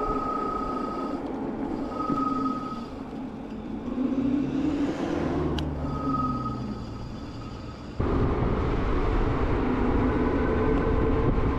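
An e-bike's front disc brake squeals after an upgrade from a 180mm to a 203mm rotor, a thin, thready high whine that comes and goes in short stretches over steady road and motor rumble.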